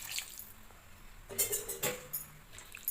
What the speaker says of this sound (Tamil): இப்போ இந்த காலிஃப்ளவர் வேகிற அளவுக்கு தண்ணி ஊற்றிக்கலாம்.